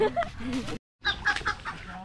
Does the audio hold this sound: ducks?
yes